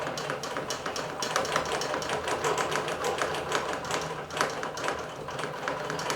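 A Bernina Q24 computerized quilting machine stitches steadily with a SUK 90 jersey ballpoint needle, a continuous rapid mechanical chatter of needle strokes at close range, loud and uninterrupted.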